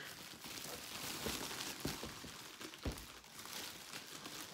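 Plastic packaging from a Star Wars Jedi Challenges set is crinkled and handled up close, making a steady papery rustle with a couple of sharper crackles.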